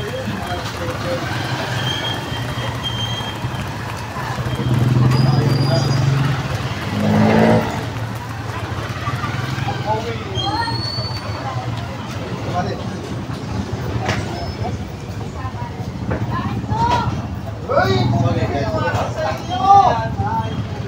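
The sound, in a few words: tricycle engine running during a ride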